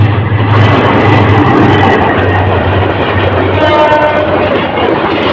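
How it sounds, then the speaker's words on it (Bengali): The Kalni Express intercity train rushes past at high speed, a loud, close roar of wheels and rail clatter with a horn sounding. "এই যে দ্রুত গতিতে কালুনি এক্সপ্রেস সামনের দিকে যাচ্ছে এবং পারাবতা ক্রস করে যাচ্ছে"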